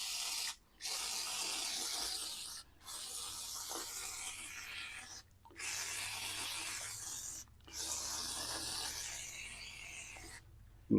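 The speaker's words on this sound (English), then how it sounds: "And keep just scraping away." A cheap hand scraper grinds rust off a wet cast iron table top in long, steady rasping strokes, with four brief pauses between passes, close and fairly loud with no talk.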